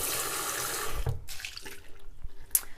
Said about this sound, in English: I'm just going to take that little bowl that we had our brush cleanser in and just rinse it out